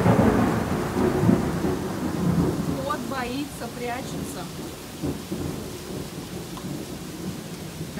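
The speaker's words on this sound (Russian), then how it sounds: "И гром почти каждый день с молниями." A Florida summer thunderstorm rumbles with a loud thunder roll at the start, then steady rain patters on surfaces as a person speaks briefly and a faint bird chirps in the background.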